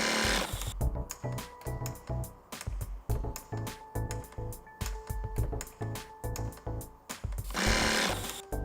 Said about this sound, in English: The internal valve may be heard modulating the input supply.